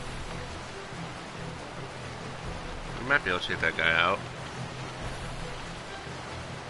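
Steady rain falling on the Giza Plains in the video game Final Fantasy XII, a constant soft hiss with someone briefly talking over it partway through.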